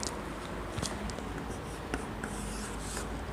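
Quiet scratchy strokes of a marker or chalk writing on a classroom board, several short bursts of scribbling with brief pauses, close and faint, no talking.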